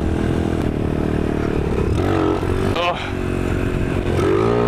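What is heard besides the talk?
motorcycle doing a second gear power wheelie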